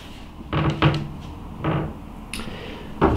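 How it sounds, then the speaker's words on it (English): Door and cupboard-type thumps in a house share bedroom, several separate muffled knocks and bumps near by with short gaps between them, no talk during the sounds. "Close the door."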